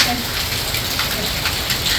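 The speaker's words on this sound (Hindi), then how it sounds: "बारिश कितनी तेज है देखो।" Heavy rain pouring down outdoors, a dense, loud and steady hiss of drops hitting surfaces with no pauses.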